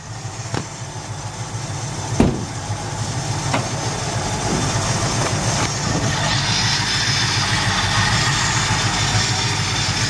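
A 1968 Chevelle engine idles and revs under the hood, a deep rumbling that swells steadily after a few sharp knocks, loud and close.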